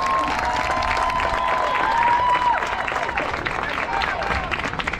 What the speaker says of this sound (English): let's give these kids a round of applause for the job well done here this morning